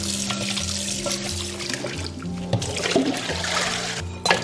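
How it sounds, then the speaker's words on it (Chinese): Raw chicken feet rinsed and swished in water, a steady sloshing and splashing stream with running water and clinks of handling throughout, close and continuous with no talk. "处理好以后，我们给它淘洗干净。"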